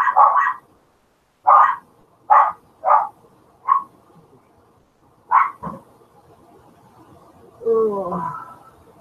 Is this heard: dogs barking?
yes